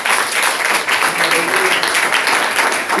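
A church congregation applauds in loud, sustained rhythmic clapping for three seconds, with voices faintly audible beneath it.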